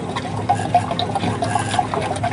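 Liquid pours steadily into a container, giving a soft, continuous trickle with faint bubbling at close range, and no one speaks.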